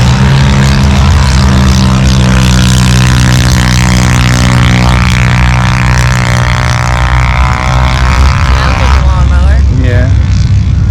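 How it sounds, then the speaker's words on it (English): A single-cylinder four-stroke engine drives a 2007 KCS junior dragster, a scaled-down replica of a full-size dragster, racing down a drag strip: a loud, steady buzzing drone that holds throughout, with voices talking over it. "So Bryson is going to take his junior dragster down the left side."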